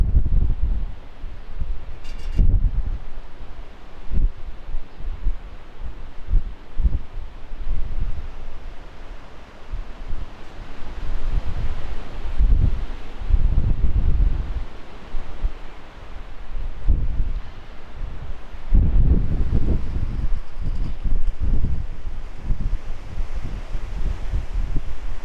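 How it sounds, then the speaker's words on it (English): Strong wind of about 30 km/h buffets an outdoor microphone, a continuous low rumbling roar with heavier gusts surging now and then, no voices. "It is incredibly windy, 30 kilometers an hour, a little bit of drifting."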